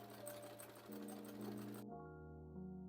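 A sewing machine stitches a seam on a fabric bag with lining, its steady rapid needle chatter close and clear, then a brief change in pitch as it slows near the end.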